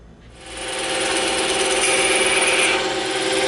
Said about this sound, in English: we're gonna feed this through and we're gonna cut right on our line